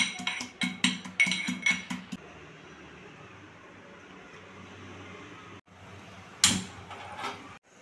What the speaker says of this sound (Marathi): आपण सोलून घेतलेला लसूण खलबत्त्यामध्ये ठेचून घेऊया